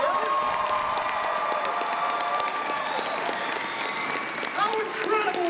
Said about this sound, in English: can we give a big round of applause for all of our cosplayers up here?